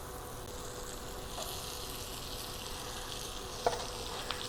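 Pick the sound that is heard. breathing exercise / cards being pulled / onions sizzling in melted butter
onions sizzling in melted butter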